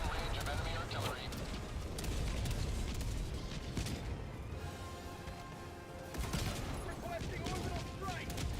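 Orbital strike explosions and gunfire in a video game, dense rumbling blasts and rattling shots layered continuously, with voices speaking over the combat.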